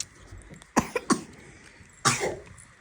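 A child coughs a few times at close range, two quick bursts followed by a longer hoarse cough after a short pause, in a quiet room.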